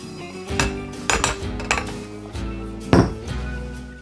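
Sichuan peppercorns are toasted in a wok, giving close, irregular metallic clinks and scraping clatters as a utensil stirs them, several sharp knocks in a few seconds.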